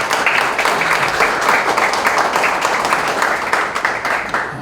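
An audience at a Korean church press conference for a large joint worship service and prayer rally applauds, sustained dense clapping from many hands filling the room evenly.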